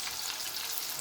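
A Scotch egg fries on a low flame with a soft, even hiss of bubbling oil, quiet and continuous with no breaks.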